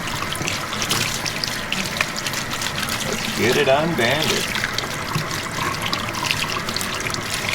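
Hot water running from a tap onto a tie-dye shirt being rinsed, a steady splashing stream with sloshing as the fabric is handled, while a person talks briefly over it.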